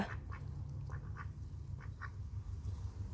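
A Peking duck quacks in short nasal bursts, about six of them in loose pairs, close and clear over a steady low background hum.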